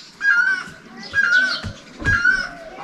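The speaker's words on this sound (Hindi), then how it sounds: "इतनी प्यारी सी चिड़िया की चहकने की आवाज़।" Bright chirping bird calls, close and clear, in short repeated bursts with brief pauses between them.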